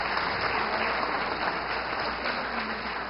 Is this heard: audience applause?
yes